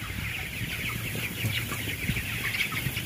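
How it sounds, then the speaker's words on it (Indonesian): Broiler chickens, 19 days old, cluck in a closed chicken house holding about 48,000 birds in Ciamis. The clucks are dense, overlapping and continuous over a steady background hum, with no talking. "Saat ini kita lagi ada di kandang ayam di Ciamis."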